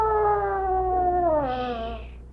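A long, wavering, rising-then-falling howl with rich harmonics, fairly close and loud, over a steady low hum.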